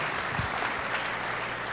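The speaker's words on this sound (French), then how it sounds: "Bravo, encore des applaudissements, merci." Audience applause fills a French award ceremony honouring a prize winner, a steady wash of clapping held at even level for under two seconds with no voices over it.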